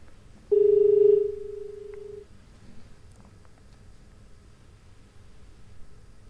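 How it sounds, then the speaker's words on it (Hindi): A phone line tone as a call drops: one steady electronic tone starts sharply, holds loud for about a second, then drops to a softer level before cutting off, with faint line noise around it. "तो गालिबन जो है वो कॉल ड्रॉप हो गई।"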